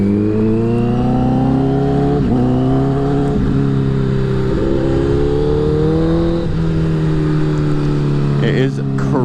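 A Honda CBR1000RR motorcycle accelerates on its first ride after a rebuild, its engine pitch climbing and dropping through several gear changes, loud and close with steady wind noise.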